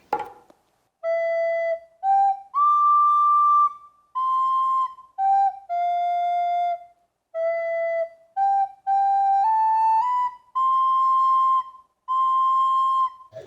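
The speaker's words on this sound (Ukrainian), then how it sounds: "Яку пісню ти граєш на флейті?" A flute plays a slow, gentle melody alone, with clear sustained notes separated by short pauses for breath.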